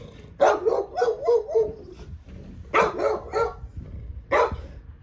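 Dog barking in repeated bursts near a house yard, a run of quick barks followed by two separate louder barks, close and clear with no talk.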